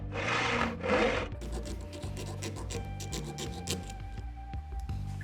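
Metal bike mudguard stays being cut in a vise, a rough rasping stroke or two followed by steady scraping and rubbing, close up with no talking.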